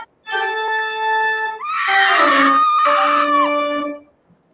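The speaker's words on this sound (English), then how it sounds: "That's you screaming." A person screams loudly and alone, one long shrill wail that breaks into a rougher, strained second cry, close and sustained for about four seconds.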